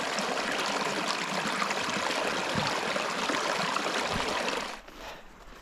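A freshwater stream near a deteriorating north wall babbles and trickles close by in a steady wash, then drops away abruptly to quiet near the end.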